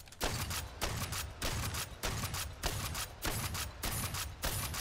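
A shotgun in Aliens: Fireteam Elite fires at a steady rhythm, with about eight loud, close blasts separated by short mechanical gaps and no talking over them.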